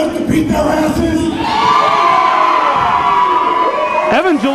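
A wrestling crowd at an indoor independent show roars and whoops in approval, a loud sustained swell of cheering and shouting voices.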